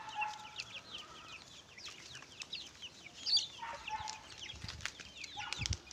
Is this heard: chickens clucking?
yes